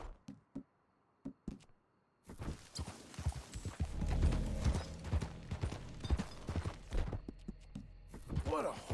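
Horse hooves clip-clop in Red Dead Redemption 2, a few sparse isolated steps at first, then a busier run of close footfalls over ambient wind and rustling.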